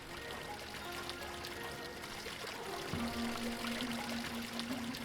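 A water wheel splashing in the game Eastshade: a steady, moderately quiet pouring and trickling of water runs throughout, with a faint sustained tone joining partway through.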